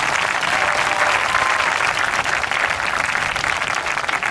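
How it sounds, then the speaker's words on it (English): A loud, dense wash of audience applause at a high school marching band and color guard summer showcase, sustained evenly from start to finish with no speech over it. "How about another round of applause for leadership?"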